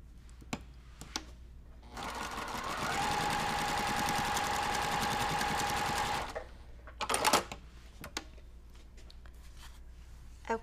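Sewing machine stitching a pinned seam on a quilt block: a steady whirring run of about four seconds, framed by scattered small handling clicks and fabric rustles before and after.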